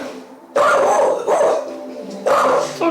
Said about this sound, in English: gonna get barked at.